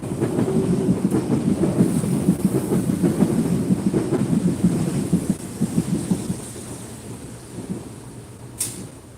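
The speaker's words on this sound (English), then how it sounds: "It's still drizzling." Steady rain with low rumbling thunder rolls through the whole stretch, loud and close at first and easing toward the end, with no voices.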